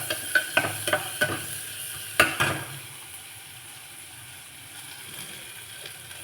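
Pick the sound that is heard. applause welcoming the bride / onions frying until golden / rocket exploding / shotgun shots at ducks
onions frying until golden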